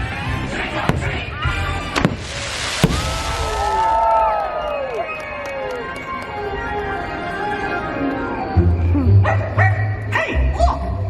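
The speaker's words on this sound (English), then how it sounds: "Hey, look! A dog!" A dog barks a few sharp times amid whistling, swooping tones and sudden bangs, with voices talking over the scene and a low rumbling patch near the end.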